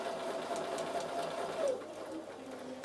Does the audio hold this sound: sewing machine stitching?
yes